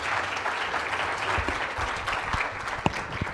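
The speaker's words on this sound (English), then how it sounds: "An applause, a warm applause for..." Warm applause from an audience at an innovation-strategy talk, a steady wash of many hands clapping with a few sharper individual claps standing out.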